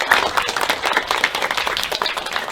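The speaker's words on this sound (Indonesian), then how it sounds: "Tepuk tangan." A classroom of students clapping their hands, a short burst of uneven, distinct claps close by that flutters in rhythm and starts to fade toward the end.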